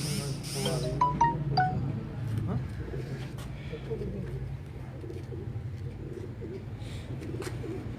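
Sialkoti pigeons coo softly in the background amid wind noise and outdoor ambience, with people talking nearby over the low, repeated calls.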